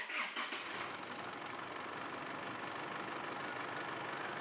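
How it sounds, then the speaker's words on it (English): An Isuzu MU-X or D-Max engine starts and settles into a steady idle, a constant mid-range rumble that runs unbroken from start to finish with no talk. "So we'll start the car then, allow it to run for about a minute and shut it off"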